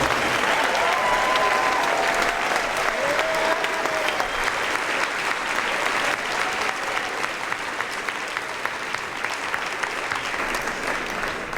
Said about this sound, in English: We join in giving them a round of applause.